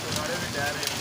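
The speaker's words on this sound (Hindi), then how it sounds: "बारिश बहुत तेज़ है" Heavy rain pours down outdoors, dripping from plants and soaking everything, a dense, steady hiss that holds evenly for a second with no voices.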